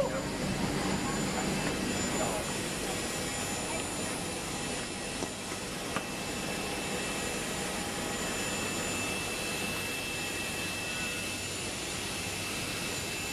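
Loud, steady roar of a small airplane's engine droning without pause, broad and continuous, with people talking faintly beneath it.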